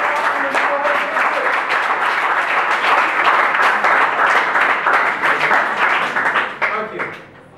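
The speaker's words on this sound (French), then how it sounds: "On l'applaudit très très fort." Audience applause for a boy contestant at a French-language eloquence competition on genocide prevention, a dense burst of clapping that fills the room for about seven seconds, then fades out near the end.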